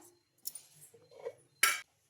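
Roasted urad dal and curry leaves tipped into a mixer jar, giving a few short clinks and rattles of ingredients and spoon against the jar, ending in one louder scraping clatter, with no talking.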